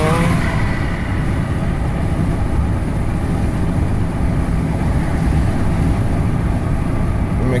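A Ram EcoDiesel pickup truck towing a load gives a loud, steady engine drone with broad road and wind rumble, holding an even pitch throughout without speech.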